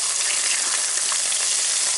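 Bacon fries in a pan for breakfast, giving a dense, continuous sizzle with fine crackling pops, close and steady throughout.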